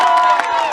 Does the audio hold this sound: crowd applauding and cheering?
yes